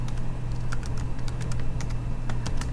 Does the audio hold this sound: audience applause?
no